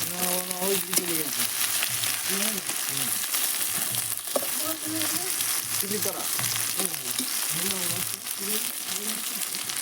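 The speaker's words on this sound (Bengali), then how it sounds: "এই যে দেখছেন পেঁয়াজ দিয়ে দিলাম পেঁয়াজ থেকে ভালো করে খরা ভাবে ভেজে নেবো" Onions sizzling in hot oil in a village-style kitchen while duck curry is being prepared, a steady frying hiss running throughout with a voice talking over it almost continuously.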